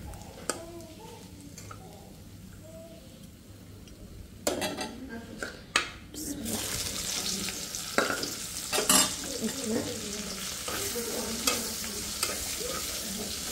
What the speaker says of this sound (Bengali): আর সরিষা তেলে ভাজছি তো দেখতে আরও সুন্দর লাগতেছে